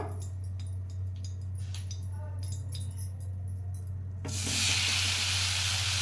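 Tomato pieces sizzling in hot oil for a pickle, a steady frying crackle with light clinks, then a sudden louder burst of hissing spatter as more pieces drop into the pan.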